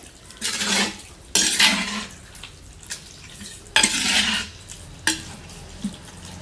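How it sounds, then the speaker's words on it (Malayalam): Beef curry is stirred and turned in a metal pot, with repeated scraping strokes of a utensil against the pot in uneven bursts over a soft background sizzle, close and fairly loud, no voices. "ഇതൊന്ന് ഇളക്കി മറിക്കുക."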